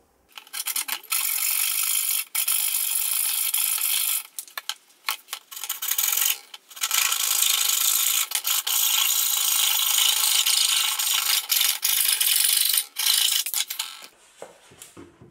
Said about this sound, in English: I can now cut that out with a coping saw